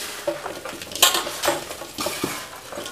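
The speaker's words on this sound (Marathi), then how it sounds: "हे हाताने हलवून घ्यायचं, कारण की चमच्याने त्याने हलवल्यावर हलवून होत नाही, म्हणून हाताने हलवून घ्यायचं" Turmeric being worked into a homemade pickle mixture by hand, soft wet squelches and scrapes against a bowl in uneven bursts, close and fairly quiet.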